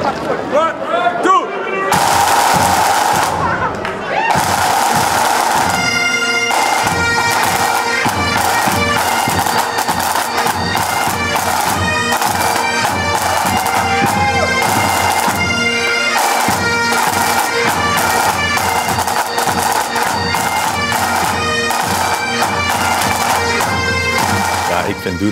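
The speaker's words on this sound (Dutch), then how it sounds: "En doedelzakken, zo'n ontzettend meeslepend geluid." Scottish bagpipes play loudly at an André Rieu concert in Australia, a dense continuous drone under a busy melody, with sharp percussive hits throughout.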